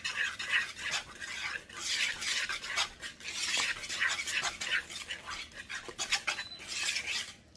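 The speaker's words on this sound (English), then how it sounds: "This is the bowl that has that terrible sound when the whisk hits it" A whisk clanks and scrapes rhythmically against a mixing bowl while beating butter cake mix to break up lumps, producing quick repeated metallic taps, close and fairly quiet.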